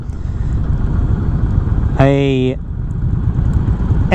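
Steady mid-pitched engine drone from a 2019 Indian Springfield Dark Horse touring motorcycle on a test ride, running continuously throughout with a brief harmonic tone cutting in partway.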